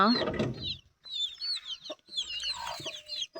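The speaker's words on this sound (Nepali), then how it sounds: "यो चाहिँ सबै के हो भन्दाखेरि नेपाली कुखुरा हो।" Chickens cluck and chatter in short bursts nearby, with a brief low voice at the start.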